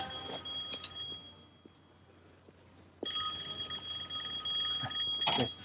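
A telephone rings inside a booth in the video game Devil May Cry, its bright electronic ring repeating over a faint low hum, growing louder partway through.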